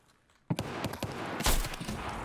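Gunfire in the video game Escape From Tarkov: after a brief quiet, a rapid string of sharp shots cracks out, with a louder burst near the end, fairly close and dense.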